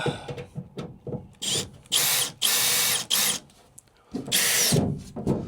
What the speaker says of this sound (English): So the inauguration of the Makita drill.